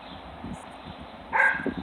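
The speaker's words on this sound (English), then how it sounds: "that dog is barking" A dog barks a few times at a distance, muffled and moderately loud, one bark standing out sharper near the end over a low background rumble.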